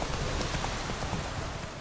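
Steady rain falls in the Velen region of the game The Witcher 3: Wild Hunt, a dense even hiss at moderate level with no pauses.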